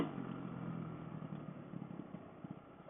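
Kawasaki KLX450R dirt bike fitted with a racing carburetor, its engine running close by at night on a trail near Lake Jocassee, a steady rough drone with slight throttle pulses that tapers off at the end, no talk.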